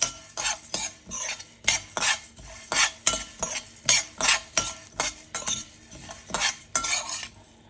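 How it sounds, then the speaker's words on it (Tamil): Roasted spices for vathakuzhambu powder being scooped and moved into a bowl, a rhythmic series of sharp metallic scrapes and taps, about a dozen evenly spaced strokes, close and clear without any speech. "இதை எடுத்து தனியாக ஒரு பவுலில் மாற்றிக்கலாம்"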